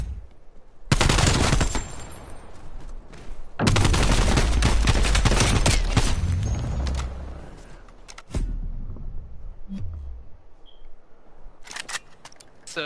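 Rapid automatic gunfire in a first-person shooter video game, long loud bursts of repeated shots with a few separate single cracks and gaps between the volleys, close and dominant with no talk over it.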